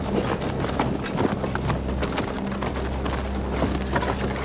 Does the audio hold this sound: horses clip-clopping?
yes